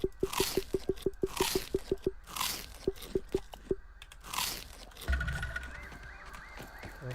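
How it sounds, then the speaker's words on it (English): Eating in the video game Grounded: rapid bursts of wet crunching and squishy bites repeat in quick rhythmic runs, close and clear, followed by a gulping, slurping tail. "And then go ahead and eat some food."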